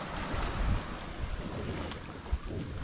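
Wind buffets a sailboat at sea, a loud close rush of wind noise over the hull and water, gusting unevenly with a couple of brief knocks.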